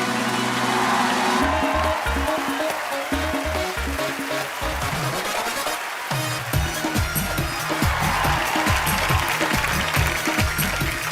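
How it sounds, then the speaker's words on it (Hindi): A studio audience on a comedy talk show applauds as film actors Ajay Devgn and Kajol enter, with steady dense clapping blended with loud music throughout. "तालियां और जोरदार होनी चाहिए।"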